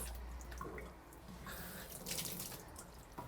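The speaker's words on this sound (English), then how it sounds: "So I'm now going to take this to my sink. Make sure you wash your hands." Water running from a kitchen sink tap as hands are washed under it, a steady soft splashing hiss with small drips and splatters, fairly quiet and close, with no talking.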